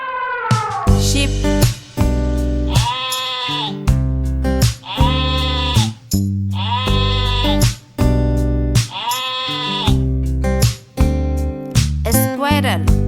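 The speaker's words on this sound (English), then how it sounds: "sheep," Sheep bleating in a farm setting, a series of loud, wavering calls repeated roughly every two seconds over a steady background of bright tonal sound.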